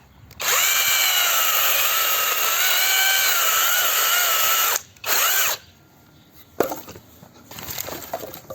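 A DEVETECH CHS-12 cordless chainsaw whines loudly as it cuts firewood for a bathhouse, one long sustained run followed by a short burst, then a pause and scattered clatter of wood nearby.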